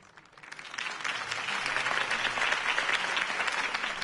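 Crowd applause for a campaign speech in the Batman Telltale video game swells from a quiet start into steady, dense clapping that holds for several seconds with no talk over it.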